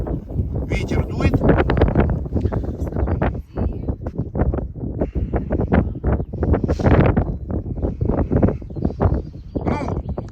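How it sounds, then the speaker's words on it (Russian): Strong wind buffets the microphone in loud, rough gusts with a constant roar, while a person talks through it, outdoors in Uzana, central Bulgaria, near Gabrovo. "Ветер дует."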